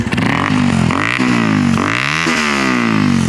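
A small mini bike engine revs hard in a few rising and falling pulls, loud and close, its buzzing tone sweeping up and down with no talk over it.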